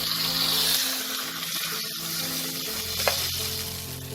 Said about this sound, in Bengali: মাথাগুলোকে আমি লাল করে ভেজে নেব।